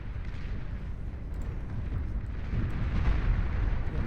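A low, rumbling explosion from a Fiend unit self-destructing in the Beyond All Reason strategy game sits among steady battle noise, a dense continuous roar that swells slightly toward the end.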